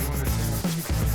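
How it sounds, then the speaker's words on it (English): A pinewood derby car's wooden body is rubbed with 220 grit sandpaper, a steady close scratchy rasp with a brief dip midway as the stroke changes. "we end here with the 220 grit sandpaper"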